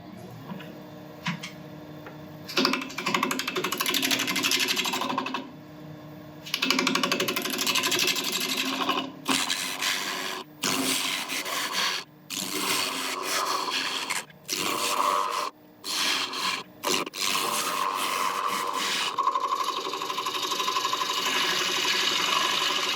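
A lathe turning elm at about 700 RPM whirs with a bowl gouge scraping and cutting into the spinning wood, a loud continuous grinding rasp broken by several brief pauses.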